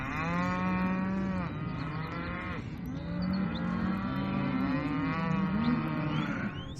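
Several Texas Longhorn cattle moo in long, drawn-out calls, one after another, fairly close and loud over a steady background rumble.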